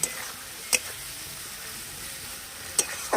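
A paste of nuts, melon seeds and poppy seeds is sautéed in a pan for a raw green tomato relish, a soft steady sizzle broken by a few sharp clinks of a spoon against the pan.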